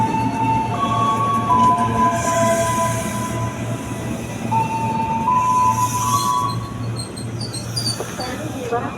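A KRL Commuterline train arrives at Bogor station, rumbling steadily on the rails with a low mechanical hum, high squeals and a tonal horn-like chime appearing briefly over the rolling noise.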